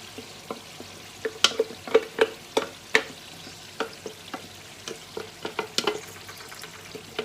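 Masala being stirred and fried in a pot while cooking urad (mash) daal, with irregular scraping and clinking spoon strokes over a low sizzle, close and fairly loud, no talk.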